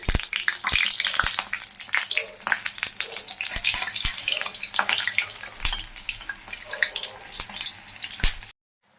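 Lentil-paste fritters frying in hot refined oil as they are turned over, a dense crackling sizzle with sharp spitting pops throughout, close and steady before cutting out near the end.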